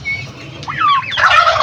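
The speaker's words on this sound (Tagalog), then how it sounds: "Nadali po ng ating barakong pabo." A large backyard male turkey gobbles loudly up close, a rapid warbling rattle that rises into a harsher, noisier burst, heard alone with no talking.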